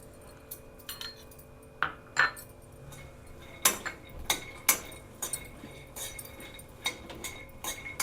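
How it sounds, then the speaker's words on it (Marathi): Peanuts dry-roast over low heat in a kadhai while a spoon stirs them, making sparse, irregular clinks and sharp scrapes against the metal, fairly quiet and close with no talk. "आपण पहिले शेंगदाणे चांगले असे खरपूस भाजून घेऊया"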